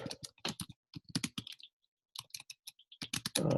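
Quick bursts of keystrokes on a computer keyboard clatter up close in short irregular runs, separated by a brief pause, with no voice.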